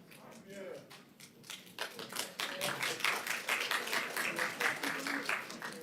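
Audience at a Planning and Zoning Commission meeting breaks into steady clapping that swells after a quiet start and keeps going, dense and close, with faint voices underneath.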